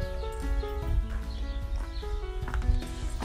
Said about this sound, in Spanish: Y acá nos vamos y vemos a los caballos.